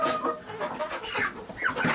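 Farm chickens cluck and chatter continuously in a coop kept alongside ducks and turkeys, with several birds calling close by and overlapping.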